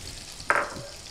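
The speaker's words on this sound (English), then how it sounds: "I'm going to put the onions now" Onions hit a hot pan with a sudden short sizzle, a brief loud hiss that quickly fades back into a low background of gentle frying, close and alone.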